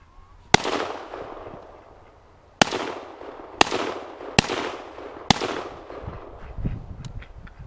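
An SKS rifle fired outdoors: five sharp, loud shots at irregular intervals, each followed by a short echoing tail, with faint rustling in between.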